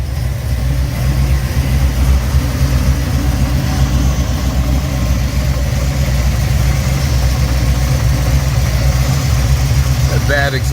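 A Buick 455 Stage-1 Regal V8 idles steadily and loudly up close, with a low, continuous rumble and a ticking exhaust leak running through it.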